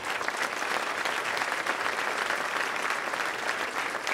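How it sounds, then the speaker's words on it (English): A crowd at a State of the City address in Carmel, Indiana gives a big round of applause, steady and dense clapping that fills the hall without a break. "So give them a big round of applause."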